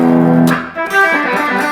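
A rock lick played on electric guitar in a pentatonic scale with a distorted, effects-laden tone, two loud picked phrases in quick succession with sustained ringing notes and no voice over them.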